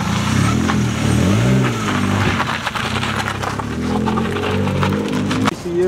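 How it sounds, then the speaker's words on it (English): A BMW E46 car doing burnouts in a small town revs loud and close, its engine pitch rising and falling in repeated swells, with tire noise and crackle and a sudden drop near the end. "We're just doing burnouts here"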